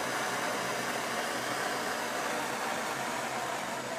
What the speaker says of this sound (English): we're gonna apply the flame to the wrench